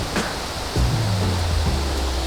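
Streams of water crashing at a waterfall in South Africa make a loud, steady broadband rush close by, with a deep low rumble building partway through and no talking.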